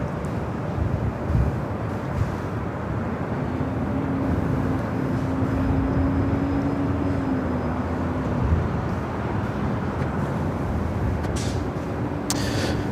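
An Airbus A380 taxis across runway 24 left at Los Angeles International Airport, a steady, loud low roar of jet engines holding throughout with a faint drifting whine on top and no voices.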